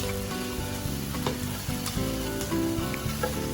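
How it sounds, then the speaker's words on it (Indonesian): Chicken sizzles and crackles steadily in a hot pan without oil, with occasional scraping and stirring sounds, close and continuous. "saya akan goreng ayam tanpa minyak sekejap dulu"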